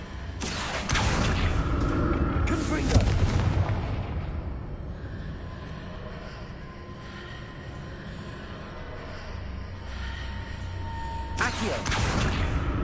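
Confringo blasting spell explosions in the Hogwarts Legacy video game, heavy booming blasts at the start and again near the end, with a rumbling fade and speech between them.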